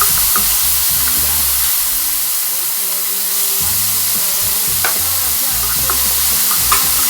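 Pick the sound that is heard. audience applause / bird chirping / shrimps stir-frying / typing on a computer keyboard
shrimps stir-frying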